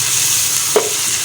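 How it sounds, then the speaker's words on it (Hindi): Garlic and ginger fry in a large wok, a close steady sizzle with one quick stirring scrape partway through. "अदरक और लहसुन को भूनना है।"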